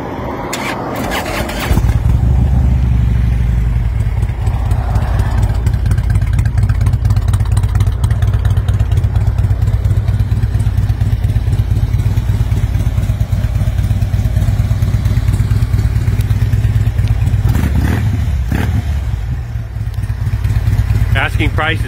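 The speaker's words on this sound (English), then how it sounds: "As you can see, I'm gonna crank it up." A 2014 Harley-Davidson FLHXS motorcycle engine cranks over and catches, then settles into a loud, steady idle up close for the rest of the stretch.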